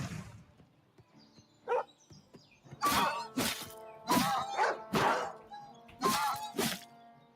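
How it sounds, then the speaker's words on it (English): A dog in the Oblivion video game gives a run of sad yelps and whimpers, several loud bursts in an uneven rhythm after a quieter start, with no talking. "Why do you gotta make sad dog noises after, like, biting the shit out of my ass?"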